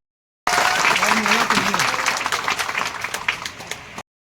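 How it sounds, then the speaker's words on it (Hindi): Village audience in India gives hearty applause to welcome guests at a memorial anniversary event, an even wash of clapping lasting several seconds, with a voice briefly heard beneath it. "जोरदार तालियों से स्वागत, अभिनंदन।"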